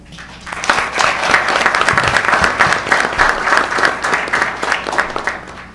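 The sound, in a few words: audience applause for students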